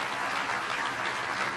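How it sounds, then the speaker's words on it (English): A crowd applauds at an infrastructure event with Vice President Biden and Governor Cuomo, a steady, dense spread of clapping that holds level for the whole stretch with no speech above it. "Let's give him a round of applause and thank him for his help."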